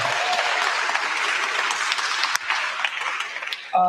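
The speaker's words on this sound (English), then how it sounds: "One more round of applause for everybody" An audience at a memorial celebration gives a sustained round of dense applause, loud and steady throughout, thinning slightly toward the end before a brief voice cuts in.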